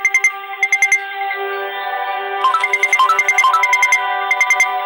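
Repeated electronic alert chimes from a smartwatch, bursts of bright beeping tones in quick rhythmic clusters over a steady tonal ringtone, loud and close with no talking.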